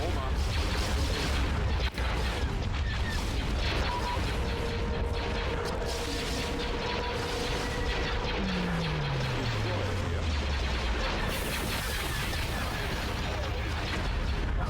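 Planet-destroying laser blast in Star Wars: Empire at War, a dense, loud, sustained roaring rumble with a sharp crack near two seconds and a descending whine later, heavy booming texture throughout.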